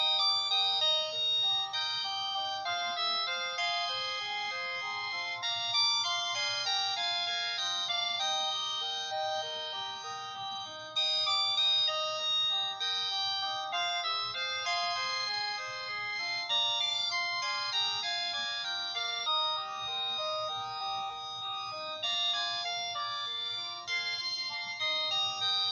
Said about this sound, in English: it has these animated ringtones